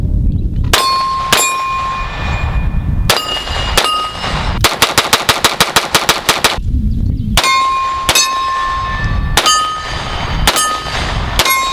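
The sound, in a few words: Glock handgun firing with a Glock Performance Trigger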